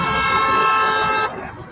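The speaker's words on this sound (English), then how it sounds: "Every honk for us is a honk against Scientology." A passing car honks its horn in support of street protesters, one loud, steady, sustained blare lasting over a second before it cuts off into quieter street noise.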